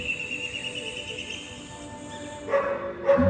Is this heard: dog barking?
yes